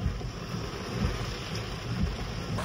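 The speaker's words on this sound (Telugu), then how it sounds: "ఇప్పుడు మాత్రం హెవీగా వర్షం పడుతూ ఉంది." Heavy rain during a traffic jam in Panaji, Goa, heard as a steady, broad wash of rainfall and low rumble, likely from inside a car, continuous throughout.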